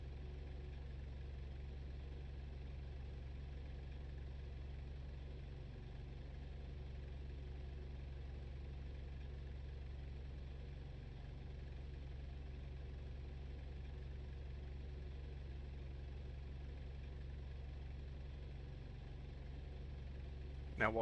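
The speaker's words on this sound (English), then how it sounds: "Your engine got too loud for my stream." A vehicle engine idles in the DCS World combat simulator, a steady low hum with a faint, even throb that holds unchanged throughout, quiet and alone until a brief click at the very end.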